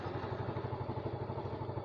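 A Yamaha Mio M3 scooter engine with a grounding fault runs at a steady idle, a close, even rapid thumping pulse with a rattly low hum and no talk.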